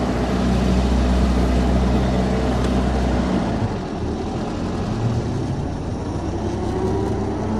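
A 1926 vintage car's engine drones steadily while driving, a loud continuous low rumble with a slight drop in level midway, as if shifting into a quieter gear, with no talk over it.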